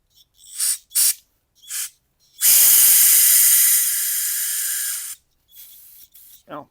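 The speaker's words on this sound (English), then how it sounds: "I'll be hosing everything I get access to off with some brake clean" Brake cleaner sprayed from an aerosol can onto a small generator's carburetor: one loud, close, sustained hiss of about two and a half seconds, with short softer bursts and sounds before and after it.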